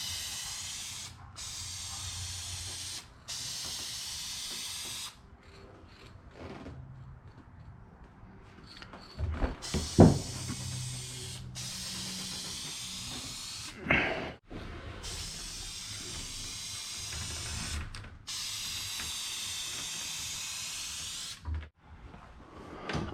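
A spray gun applies a third coat of paint over damaged, peeling automotive clear coat in repeated close hissing bursts of several seconds each, separated by short quiet gaps and a few faint clunks.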